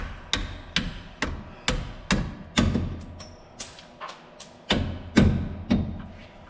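Repeated sharp brass hammer blows driving out a bolt from the rear shock of a 1976 Chevy K5 Blazer, about a dozen strikes in a fairly steady rhythm, with a faint high ringing tone between some hits.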